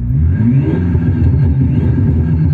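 A 2022 BMW G11 7 Series fitted with a Thor exhaust is revved in quick succession, a loud, close, throbbing engine note with rapid pulsing, heard alone without voices.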